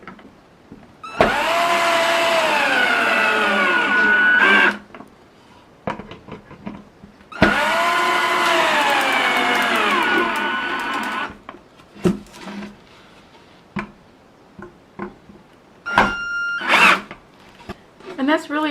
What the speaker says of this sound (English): I'm going to put the screws in to start with.